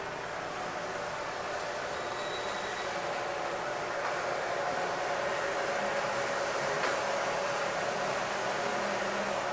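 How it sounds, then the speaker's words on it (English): A model train rolls across a layout beside a working fountain, giving a steady, moderately loud mechanical hum and rumble with constant running water underneath throughout. "Watch the train as it comes across"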